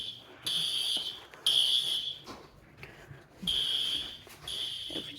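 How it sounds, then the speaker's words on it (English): A fire alarm sounds during a test, its shrill high tone blaring in repeated bursts with short gaps between them, moderately loud over a faint background. "But yeah, I'm gonna go silence the alarm now."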